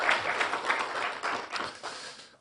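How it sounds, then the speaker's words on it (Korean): A church congregation applauds its choir after a Christmas cantata, a brief burst of crowded clapping in a large room that fades within a couple of seconds. "우리 성탄 칸타타로 수고한 우리 성가대에도 격려의 박수를 보내주십시오."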